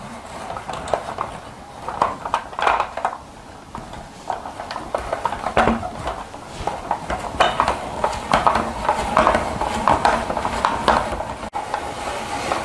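A hand-cranked vegetable cutter turns zucchini into noodles with a continuous crunchy, rhythmic scraping, broken by the knocks and clatter of the strands being pulled into a pan nearby.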